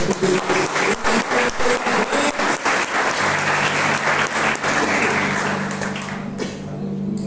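Church congregation applauding together, a dense steady roar of many clapping hands with a low hum running beneath, holding loud throughout before easing slightly at the end.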